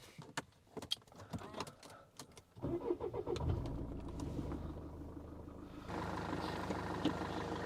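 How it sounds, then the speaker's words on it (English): A Mercedes C-Class W203 2.2 diesel cranks over after a few clicks and catches, settling into a steady, close diesel idle that stays loud and even to the end. "The engine seems to run fine. And I'll just start it up."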